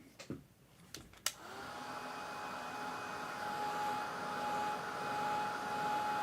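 A hair dryer switched on after a few clicks and knocks to dry a watercolor painting, then blowing with a steady, whining hum that grows slightly louder.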